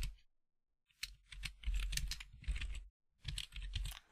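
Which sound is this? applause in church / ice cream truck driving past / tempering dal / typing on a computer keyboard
typing on a computer keyboard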